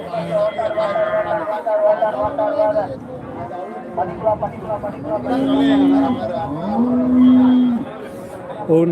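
Cattle low repeatedly at a busy livestock market in Karimangalam, Dharmapuri district, with several drawn-out moos rising over constant crowd chatter and talk.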